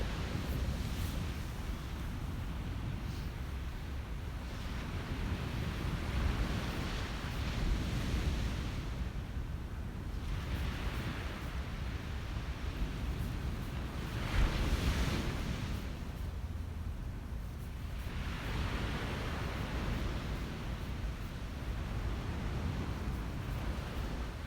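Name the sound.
waves and wind on the beach at sunrise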